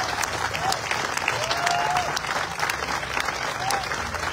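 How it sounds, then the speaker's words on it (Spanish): Steady applause from a crowd at a town inauguration ceremony in Jonacatepec, dense continuous clapping throughout with a few faint whistles in between. "fuertes los aplausos a nuestra alcaldesa"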